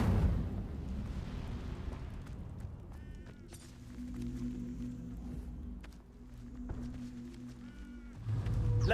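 A fire spell cast as a fiery burst in Hogwarts Legacy on PS5, its rushing, crackling blast running several seconds over low rumble and steady game music, swelling again near the end.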